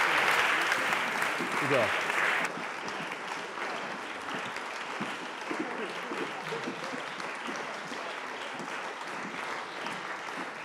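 Audience applause after a Shakespeare performance by students, a dense wash of many hands clapping, loud at first and then dropping to a softer sustained patter, with a voice briefly speaking over it.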